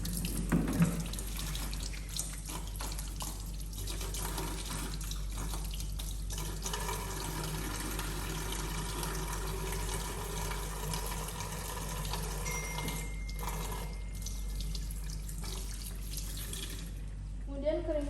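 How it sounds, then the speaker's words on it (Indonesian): Tap water runs steadily into a sink as hands are washed, a continuous hiss and splash with small shifts in flow, close and fairly quiet with a faint voice speaking in the background. "mencuci tangan dengan 7 langkah dengan air mengalir"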